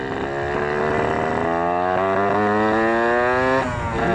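Suzuki Satria two-stroke motorcycle engine, fitted with a YZ 125/85 ignition coil for comparison, revving loud and close through the gears, its buzzing pitch climbing, dropping at each shift and climbing again.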